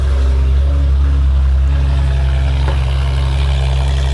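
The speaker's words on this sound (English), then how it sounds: "This is what the car sounds like in normal." Steady, loud idle from a Porsche 911 GT3 RS running without headers, a deep droning hum close by with a faint tonal whine above it, holding level throughout with no voices.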